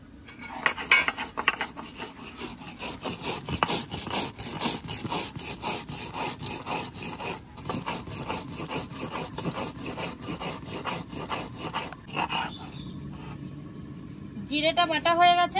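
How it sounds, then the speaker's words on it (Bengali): Roasted cumin is ground into a paste by hand, a steady, rapid back-and-forth rubbing and grating that runs close and continuous for over ten seconds before a voice briefly speaks at the end. "আমি এখন ভেজে রাখা জিরেটা বেটে নেব"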